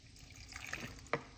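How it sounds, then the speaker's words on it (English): Tap water being poured into a cooking pot in a kitchen, a faint, soft trickle and splash with a brief brighter splash near the end. "pour it out like this. A little bit more water."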